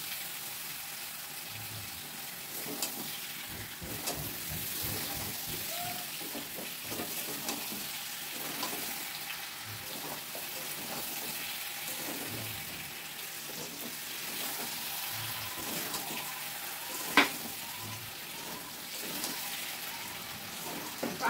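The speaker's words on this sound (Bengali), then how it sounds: "দেখো আঁচটা কমাই দিয়ে আস্তে আস্তে এরকম করে চিনিটাকে গলাতে হবে।" Sugar melts into mango pickle over low heat, giving a soft, continuous faint sizzle with occasional gentle stirring scrapes and one brief sharp click near the end.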